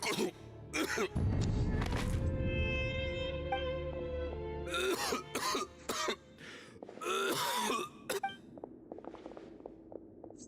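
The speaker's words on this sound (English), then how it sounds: "Why is he coughing so much?" A character in a Genshin Impact cutscene coughs and clears his throat in several harsh bursts, close and fairly loud, with game music and other characters talking between the fits.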